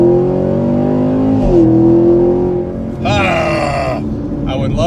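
A 2019 Chevrolet Camaro 2SS V8 engine revs loudly and steadily up close, climbing in pitch with a sharper surge near the end, while voices talk over it.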